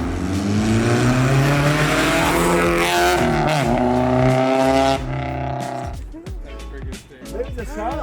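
A Honda K24-swapped BMW E30 revs hard on a test drive, a loud sustained engine roar with rising and falling pitch that drops off toward the end, with people talking over it.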